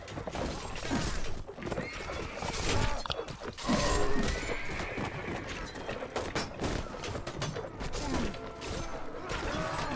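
A horse neighs loudly amid battle noise in the medieval combat video game Mount & Blade Warband, with hoofbeats and clashing sounds churning around it.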